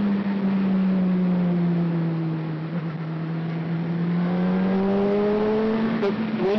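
A 2013 Honda CBR600RR motorcycle engine revs close by with a steady, loud, buzzing drone. Its pitch dips slightly and then climbs again as the throttle opens toward the end.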